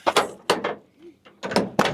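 A series of heavy thunks and rattles as the stuck door of an old 1973 Valiant is yanked and forced, several separate bangs with short pauses between.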